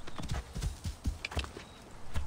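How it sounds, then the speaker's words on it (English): A horse gallops in the video game Assassin's Creed Origins, hoofbeats thudding in a quick uneven rhythm, close and fairly loud over a bed of ambient game sound. "We need a horse, like it's 700 meters away."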